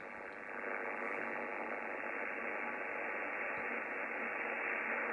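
Steady, loud radio interference hiss fills the whole stretch while tuning on the 15-meter band, a dense continuous rush of noise with no voices.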